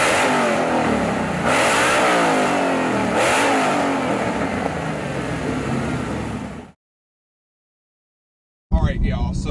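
A 426 Hellephant 1,000 horsepower crate V8 in a Dodge Charger revs loudly and close for several seconds with two sharp blips, cuts to silence, then roars again briefly.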